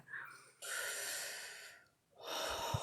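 A person breathing close to the microphone: two long, airy inhales or exhales separated by a short pause, with a faint snort-like hiss at the start.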